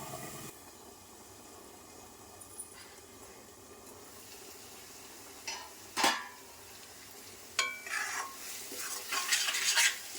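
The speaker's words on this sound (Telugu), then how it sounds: "చూడండి, ఉల్లిపాయ పేస్ట్ కూడా ఆల్మోస్ట్ వేగిపోయింది." Onion paste frying in oil in a pan while being stirred, a soft steady sizzle broken by louder scraping and clinking of a spoon against the pan that grows busier toward the end.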